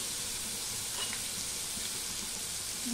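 Potatoes frying in hot oil with turmeric for bhoger khichuri, a steady, faint hissing sizzle throughout with a few light stirring touches, ending on a brief louder clatter.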